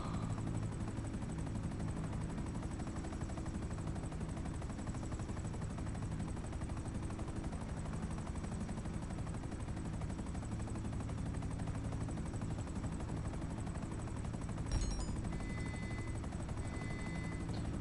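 A helicopter in the video game GTA drones steadily and loudly throughout, with a continuous rotor and engine rumble and a brief sharp mechanical click near the end.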